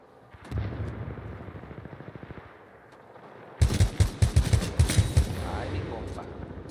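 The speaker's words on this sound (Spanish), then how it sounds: "Vamos a tener que abrirnos paso a tiros." Rapid bursts of gunfire in a shooting video game, a steady rattle at first, then louder, sharper volleys of closely spaced shots near the end, with faint background talk.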